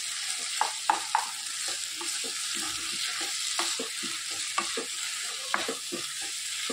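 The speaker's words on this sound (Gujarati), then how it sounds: "આપણે પનીર નાખી દઈશું. સાથે સાથે લીલા ચણા પડ્યા છે એ પણ નાખી દઈશું. બધું સરસ મિક્સ કરી લઈએ." Paneer and green chickpeas fried and stirred in a pan, a constant sizzle with repeated close spatula scrapes and knocks at an irregular rhythm.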